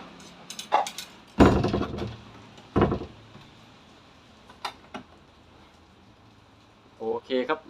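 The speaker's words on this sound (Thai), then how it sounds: "เดี๋ยวผมปิดประตูก่อนดีกว่านะ เพราะว่าเสียงมันรบกวนนะครับ" A room door being shut, heard as a couple of short solid thuds and a rattling clack amid scattered handling knocks, close by, with someone speaking around the sounds.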